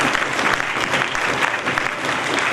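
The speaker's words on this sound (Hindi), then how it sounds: "एक बार तालियां बजाइए" Audience at a community gathering breaking into loud, close applause, many hands clapping in a dense, continuous burst.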